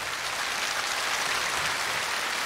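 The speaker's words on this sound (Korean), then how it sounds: "많은 박수 부탁드립니다." Dense, steady applause fills a Korean televised amateur singing contest as a contestant from the Chinese-Korean community is welcomed to the stage, a continuous wash of many hands clapping with no break.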